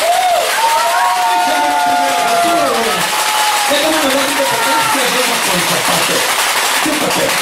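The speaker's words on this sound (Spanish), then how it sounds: "Y si no me creen, fíjense nomás los aplausos." A studio audience applauding and cheering during a televised interview with an impersonator, dense clapping with crowd noise while a voice speaks over it, loud and sustained.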